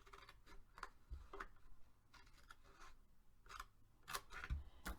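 Scissors cutting paper card along a score line for a Christmas card project, with a series of quiet, crisp snips and clicks in irregular bursts and no talking.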